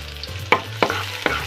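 Finely chopped garlic sizzles in a pan for a milkfish miso sour soup, with three sharp utensil scrapes and clacks over a steady close frying hiss.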